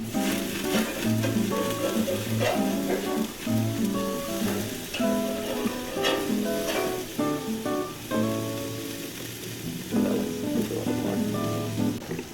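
Venison burgers cooking on a lidded grill give a steady, dense sizzle with crackling pops throughout. Tonal hum and clatter also run underneath, with no voices.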